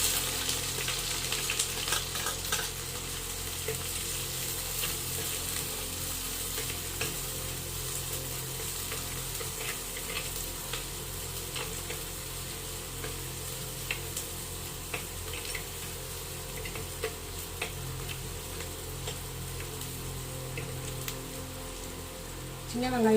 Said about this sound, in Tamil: இப்போ இந்த பொடியாக நறுக்கிற வெங்காயத்தை இதில் சேர்த்துக்கிறேன்.